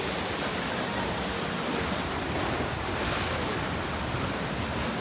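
Water rapids ride at Europa-Park, with a continuous, loud rushing and splashing wash of water, close and unbroken, blending with wind buffeting the microphone.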